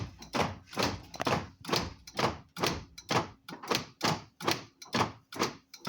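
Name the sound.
Mazda 626 GF door locks cycling on their own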